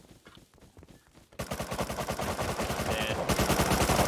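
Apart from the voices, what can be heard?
gunfire in the video game Rust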